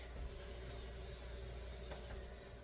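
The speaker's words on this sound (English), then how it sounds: "let me get started by spraying my pan" A steady, continuous hiss of cooking spray onto a pan over a sink runs through the whole clip, fairly quiet and unbroken, with no voices.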